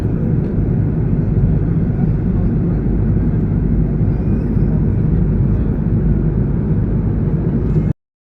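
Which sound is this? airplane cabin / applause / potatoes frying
airplane cabin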